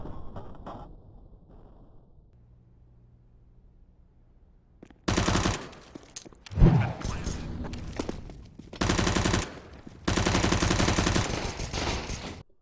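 Counter-Strike gunfire in rapid bursts, loud sharp volleys broken by short pauses, with a voice talking quietly in the quieter stretches.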